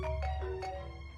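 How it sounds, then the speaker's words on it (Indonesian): A phone ringtone signals an incoming call: a bright electronic melody of short tonal bursts repeating over a low hum, fairly quiet and with no voices. "Aku akan menerima telepon."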